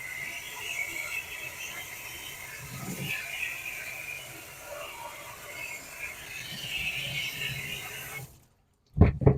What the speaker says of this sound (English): you're going to want to rinse all the red out of it